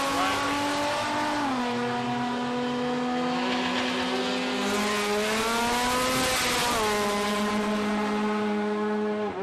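A supercharged V6 drag race car roars down the strip at a dragway, its loud engine note climbing and shifting in pitch as it accelerates close by for the whole run.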